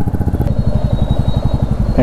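A luggage-loaded motorcycle setting off on a ride from Jogipet to Srisailam thrums with a close, rapid, even engine pulse throughout, its steady beat loud and up front.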